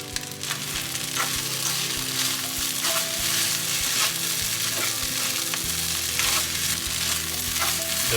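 Seafood black rice with egg sizzles and crackles in a hot pan as it is stir-fried, with steady frying noise and repeated scraping taps of the utensil, close and continuous without talk.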